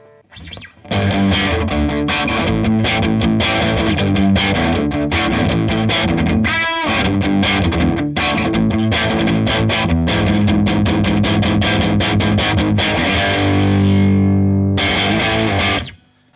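A heavily distorted electric guitar plays driving punk rock chords through a Vox Bruno TB18C1 combo amp in dark mode, mid boost off, loud and continuous, with a brief pause near the end before strumming resumes.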